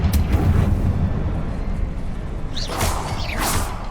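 A Confringo blast spell cast in Hogwarts Legacy comes through as a rumbling fiery rush, then two quick whooshing flares burst near the close.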